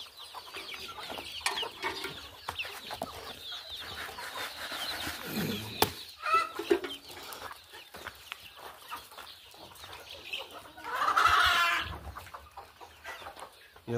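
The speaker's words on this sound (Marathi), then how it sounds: "या खोड आलेल्या कोंबड्या आहेत तिथं" Hens in a poultry shed, including some recovering from illness, clucking softly and intermittently at close to mid distance, with a louder burst of clucking near the end and faint background shuffling.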